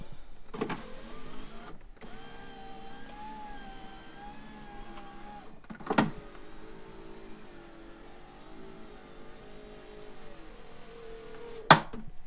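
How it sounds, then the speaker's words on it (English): Electric window regulator motor in a BMW E38/E39 front door drives the glass with a steady whirring hum, broken by a few sharp popping clicks as the new cable seats, heard close and alone. "In the popping the first couple times is normal. That's the cable and everything seating in."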